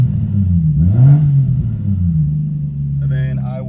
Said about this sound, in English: I'm gonna give it some blips so you can see how it sounds